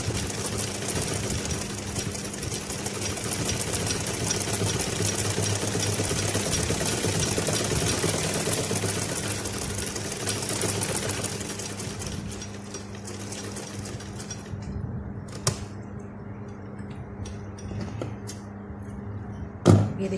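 A domestic sewing machine runs continuously for most of the stretch, a steady whirring stitch set up with a stitching fault, then slows and stops, leaving faint clicks and a couple of sharp knocks.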